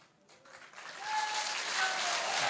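An audience bursts into applause that builds quickly from near silence into sustained, dense clapping heard at a moderate distance.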